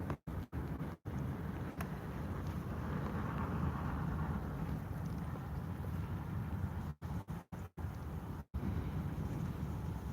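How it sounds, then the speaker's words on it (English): Strong outdoor wind buffeting the microphone, a loud continuous low roar with rushing gusts and a few sudden dropouts, no voices over it. "Yeah, super windy here."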